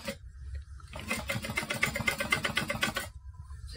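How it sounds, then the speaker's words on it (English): A sewing machine top stitching a fabric bag, a rapid even run of needle clatter lasting about two seconds between brief pauses, close and fairly quiet with no talk. "Okay, I'm gonna top stitch."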